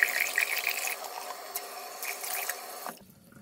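Warm tap water streams into a spray bottle, a bright splashing fill with a few clicks, then the flow cuts off abruptly, leaving quiet.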